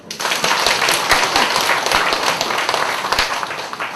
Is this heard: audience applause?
yes